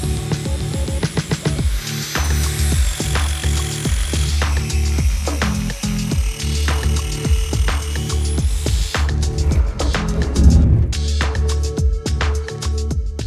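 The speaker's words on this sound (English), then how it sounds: "Now we're gonna chop some length off of the frame, tack it up, and mock everything up again." Power tool cutting a go-kart frame built from a Cozy Coupe, with tack welding, makes a loud, steady mechanical whine with rapid buzzing pulses, close up and continuous, ending in crackling bursts.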